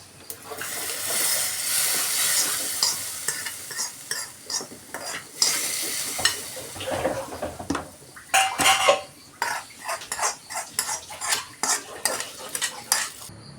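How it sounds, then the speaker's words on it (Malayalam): Fried ingredients tipped into hot payasam and stirred, with a loud sizzle up front, then repeated scraping and clinking of a spoon against the pot in an irregular rhythm, close and without talking. "ഇനി നമുക്ക് നേരെ വറുത്തത് നേരെ പായസത്തിലേക്ക് ഇടാം"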